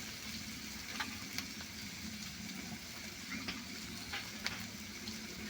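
Water poured into spice masala frying in oil for a vegetarian omelette curry sets off a soft, steady sizzle and bubbling, with faint intermittent clinks and pops over the continuous hiss.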